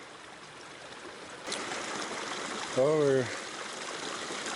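Morrison Creek on the Colorado Trail flows as a steady broadband rush of water close by, with a short spoken exclamation over it partway through.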